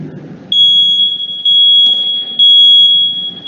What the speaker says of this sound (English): So you guys are going to hear the alarm go off